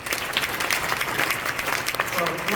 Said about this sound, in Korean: 위로의 박수 다시 한번 주시기